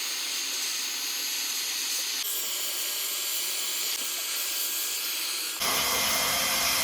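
A hot air welding gun seals a reinforced PVC swimming pool liner with a steady close hissing blast, running continuously and growing louder and harsher near the end, with no talk over it.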